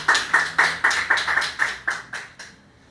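A church congregation claps in unison, about ten crisp, evenly spaced claps in a quick rhythm that fade out at the end.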